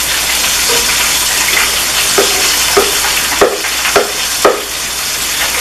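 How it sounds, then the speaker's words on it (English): Okra fries loudly in a pan as a steady close sizzle, broken by a few soft scraping stirs toward the end, with no talk. "I like to fry it out"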